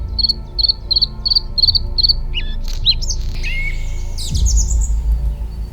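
Out on a savanna meadow at dawn, a bird repeats a short rhythmic chirp six times, then other birds squawk and whistle nearby, over a steady bed of insect and cricket buzzing and a soft breeze.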